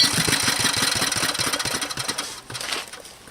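A David Bradley walk-behind tractor with a Briggs engine fires and chugs steadily, a loud, close, rapid sputtering engine note that briefly dips near the end before picking back up.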